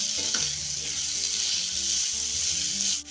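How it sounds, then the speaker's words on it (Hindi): Chopped onion and capsicum sizzle in a pan, a loud, close, continuous crackle of frying with a few faint scrapes of stirring underneath. "इसे थोड़ी देर भूनेंगे, ज़्यादा नहीं भूनना है।"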